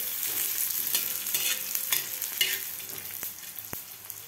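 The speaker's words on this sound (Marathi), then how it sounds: "आता आपल्याला हे सुद्धा भाजून घ्यायचं आहे व्यवस्थित तेलामध्ये।" Coriander seeds and roasted chickpeas crackle and sizzle in hot oil for a village-style bitter gourd curry, with a spoon stirring and scraping the pan now and then, close and steady.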